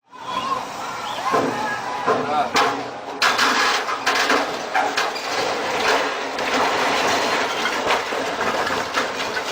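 A train rumbles past with clattering rattles and sharp metallic bangs, loud and continuous, with muffled voices mixed in.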